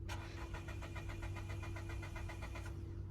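A car with a suspected battery or electrical fault cranking over and over without catching, a rapid even pulsing chug that runs steady and loud for about three seconds, heard up close with no talking.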